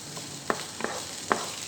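Fried rice with egg and white onion being mixed in a pan, three light scraping strokes of the spatula over a faint background sizzle.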